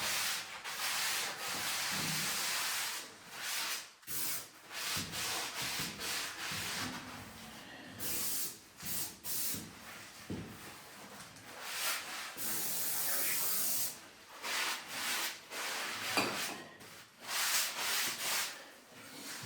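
Cloth wiping and rubbing corners with anti-silicone degreaser, steady close scrubbing and swishing strokes with brief pauses between passes, fairly loud with no talking.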